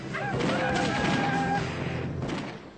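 Cartoon gunfire and explosive bursts in an animated Sinhala cartoon, a dense loud barrage of booms and shots with overlapping effects, fading toward the end.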